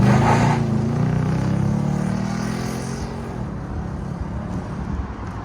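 Exhaust of a Nissan Titan pickup with a 5.6L V8 and a Borla ProXS exhaust system: a deep, steady, close rumble that eases slightly in level and carries on alone.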